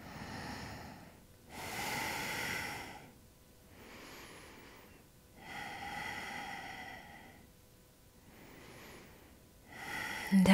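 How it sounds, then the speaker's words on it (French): Slow, deep breaths during a yoga pose: three long airy inhales and exhales follow one another in an even, calm rhythm, close and soft in a quiet room. "Et on va prendre 3 respirations ici."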